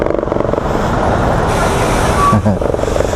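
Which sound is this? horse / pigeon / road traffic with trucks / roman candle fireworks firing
road traffic with trucks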